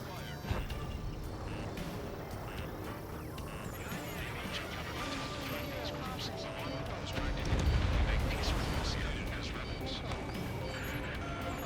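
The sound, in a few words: gunfire attack on vehicle in the video game Ace Combat 7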